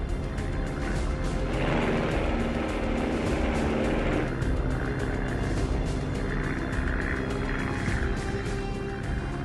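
Vintage Super Cub light aircraft side-slipping in to land at Brooklands in a strong crosswind, its engine a steady, continuous drone with broad wind rush, fairly close and holding level throughout.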